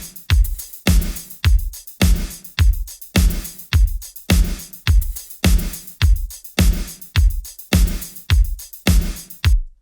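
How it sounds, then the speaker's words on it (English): Synthwave backing drum loop of kick, snare, two hi-hats and a shaker, playing a steady, even groove with punchy repeating hits and bright ticking on top throughout. "what you're hearing there is a kick, a snare, two hi-hats, and a shaker"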